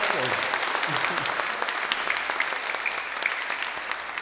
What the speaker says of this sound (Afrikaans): Kom ons klap vir hulle.